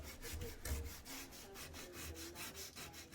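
Wood is hand sanded with 120 grit sandpaper on an old dresser, a quiet rhythmic scratching of back-and-forth strokes repeating steadily.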